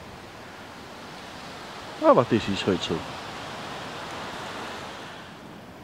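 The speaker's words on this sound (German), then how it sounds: "wie man sehen kann, haben wir es heute auch wieder extrem windig." Strong wind gusting across a mountainside roars as a steady, broad rush through the whole stretch, with a brief burst of speech partway through.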